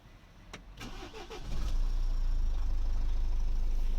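A Renault Latitude car engine cranks a few times, catches, and settles into a steady, rough, tractor-like idle that continues to the end.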